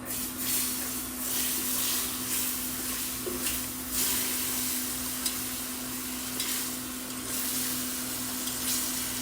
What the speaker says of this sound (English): now we will slowly add in our shrimp stock